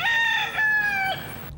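A rooster kept in town alongside peacocks crows loudly and close by, one long drawn-out call with a sharp start and a falling tail, alone with no talk.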